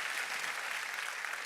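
A moderately loud burst of steady clapping from a conference audience at a panel talk on prosecutors, an even wash of hands that continues throughout without any voices.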